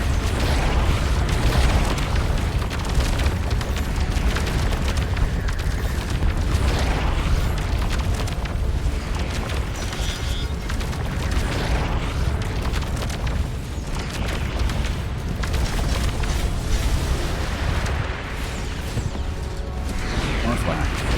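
Flak bursts go off during a Starcom: Unknown Space space battle, with a steady barrage of booming pops that recur over a thick, continuous rumble for about twenty seconds, while speech sits faintly in the mix.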